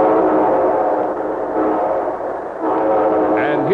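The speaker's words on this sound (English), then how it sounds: "And here comes our star-studded show train." A train rumbles steadily close by, its horn sounding in sustained tones with a rising blast near the end.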